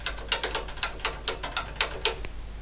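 Keys on a TOSCAL BC1411 nixie-tube calculator under repair are pressed in a quick, uneven series of sharp, close mechanical clacks, about a dozen presses with no talk.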